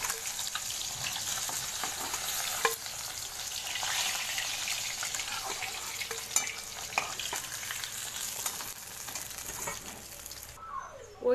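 Fish fries in hot oil, a continuous close sizzle and crackle with a few sharper spatter pops and utensil touches, steady and without talk.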